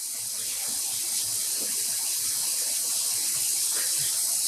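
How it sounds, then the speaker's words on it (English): Tap water running steadily into a container while dyed yarn is rinsed, a continuous close splashing stream with no voices. "we're going to start rinsing the yarn"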